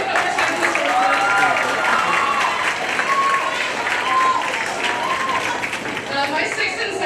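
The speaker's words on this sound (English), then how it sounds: "so we can all applaud you" An audience at a school theatre awards ceremony breaks into sustained applause, dense clapping with occasional cheers, loud and continuous throughout.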